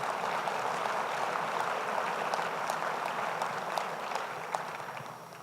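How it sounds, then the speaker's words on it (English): An audience at the 2018 Sustainable Denver Summit applauds its council members, a dense, steady wash of clapping from many hands that fades slightly toward the end, with no speech over it. "So let's give our council people a round of applause."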